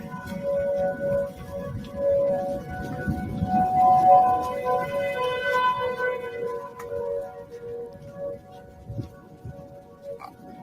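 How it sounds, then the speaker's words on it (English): Roughly four neighborhood tornado sirens wail at once, their sustained tones overlapping into an eerie harmony; fairly distant and steady, with faint talk underneath. "all the tornado sirens in my neighborhood accidentally harmonized"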